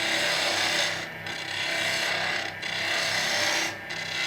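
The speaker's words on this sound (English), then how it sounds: "Let me go here to my spindle gouge again because I'm going to use it to start coming into this edge a little bit more." Spindle gouge cutting a spinning wooden workpiece on a lathe, making a steady broadband rasping scrape with three brief dips where the tool lifts off, close and fairly loud, with no talking.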